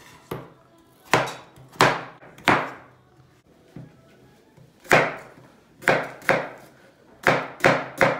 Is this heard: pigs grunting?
no